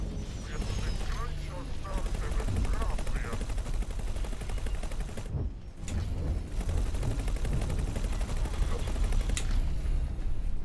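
Spaceship weapons fire in X4 Foundations, a dense stream of rapid gunfire-like bursts running almost nonstop, with one short lull partway through, while a voice talks over the din.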